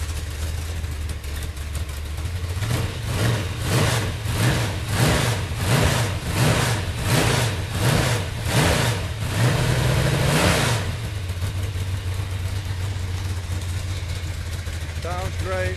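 A Chevy 454 V8 with a solid lifter cam on an engine stand revs sharply about eight times in quick succession, then settles back to a loud, steady idle close by.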